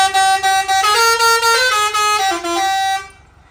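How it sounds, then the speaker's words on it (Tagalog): A fire-style air horn mounted on a vehicle blasts loudly and nearly continuously for about three seconds, its wavering tones shifting in pitch before cutting off abruptly. "Yung fire air horn, yung dihila natin na fire air horn."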